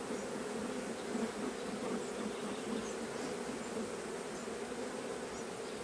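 A dense, steady hum of many honeybees buzzing together at the hive, close and continuous, with no talking.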